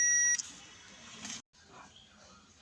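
A multimeter gives a short, sharp continuity beep while testing the brake switch of a Toyota Hilux, followed by faint, quiet background handling.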